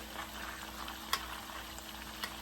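Low, steady sizzle of okra frying in hot oil with a couple of brief sharp crackles, fairly quiet and uninterrupted by talk.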